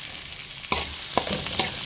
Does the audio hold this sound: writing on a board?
no